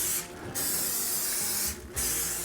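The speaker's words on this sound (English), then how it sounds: "I want to spray some cooking oil on these to prevent any sticking." Two short hissing bursts of cooking oil spray from an aerosol can, close up, separated by a brief pause, with a steady background hiss.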